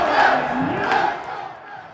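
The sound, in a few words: Mets fans crowd cheering at Citi Field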